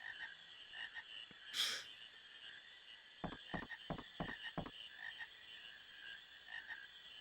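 Frog croaks from Final Fantasy IX come in a quick cluster of five or six sharp rasping pulses, heard faintly over a soft game background hum.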